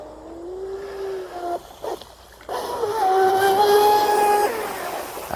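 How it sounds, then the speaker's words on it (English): A radio-controlled mono hull boat racing at high speed on water, its small motor whining in a high pitch that rises and shifts as it passes, loud and continuous after a brief dip. "that's a good running boat right there"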